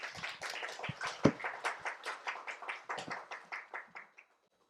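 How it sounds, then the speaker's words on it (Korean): A church congregation at a Korean Sunday service claps to welcome a visiting pastor, a steady run of close, fairly loud hand claps in an even rhythm that thins and stops after about four seconds, with no talking. "우리 나오실 때 큰 박수로 환영해 주셨으면 감사하겠습니다."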